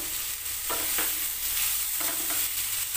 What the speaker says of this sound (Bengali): আলুর সঙ্গে ডুমুরটা একসঙ্গে কষে নেব কয়েক সেকেন্ড।